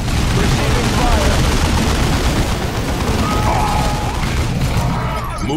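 Sustained gunfire and explosions rumble through a Warhammer 40k: Dawn of War 2 battle against orcs, dense and continuous with a faint voice mixed in.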